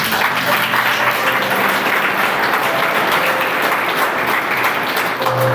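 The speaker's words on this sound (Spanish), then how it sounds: "den un fuerte aplauso, Señor" A church congregation gives strong, continuous applause, loud and dense for the whole stretch. Faint tonal voices or music sit underneath the clapping.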